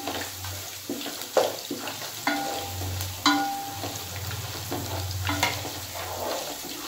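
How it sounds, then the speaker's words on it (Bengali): Grated coconut lightly fries in a pan with a soft sizzle, close up, while irregular knocks and scrapes of a spatula stir it and a low hum runs underneath. There is no talking. "নারকেলটা একটু হালকা করে ভেজে নেব"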